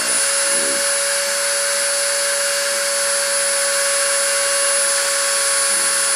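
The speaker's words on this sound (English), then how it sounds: "I'm going to turn the spindle on and start the deposition." A machine spindle runs throughout deposition, a loud steady whir with a constant tonal hum that stays unchanged from start to finish, with no voices.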